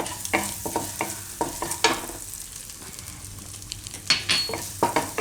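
Garlic and grated ginger sizzle in melted butter in a pan for a Gujarati broccoli soup, with a spoon repeatedly scraping and stirring over a soft, steady frying hiss.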